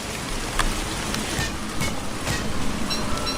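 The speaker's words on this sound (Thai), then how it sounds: "ฝนตกเริ่มหนักแล้วค่ะ เริ่มหนักขึ้นเรื่อยๆ" Rain falls steadily and heavily in the survival video game Don't Starve, a dense continuous hiss with a few soft thumps and no talking.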